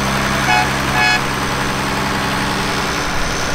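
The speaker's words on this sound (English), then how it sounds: "1566 with a Hennecker cab." An International Harvester 1566 tractor with a Hennecker cab runs in a parade, its diesel engine holding a steady, close low drone, joined by a couple of faint short tones early on.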